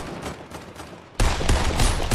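Rapid sniper rifle fire in the Fortnite battle royale game, a dense loud burst of gunshots erupting sharply about halfway through after quieter game ambience.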